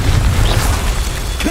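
A Confringo fire spell from Hogwarts Legacy bursts with a dense, rumbling boom that fills the whole moment, loud and close with crackling debris.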